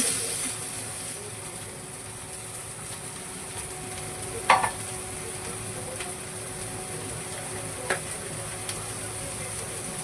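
Bitter gourd frying in a pan with red chilli powder, cumin powder and turmeric, a steady close sizzle broken by a couple of sharp scrape-and-stir knocks from a spoon, no talking.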